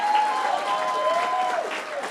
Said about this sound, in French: Est-ce que je pourrais avoir un gros cri d'acclamation ici?